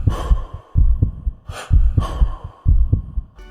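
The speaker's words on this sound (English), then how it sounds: "the beat of the song is made from a heartbeat and breathing noises" Heartbeat and breathing noises forming the beat of a song: loud, close double thumps in a steady pulse, with breathy hisses between them, alone without voices.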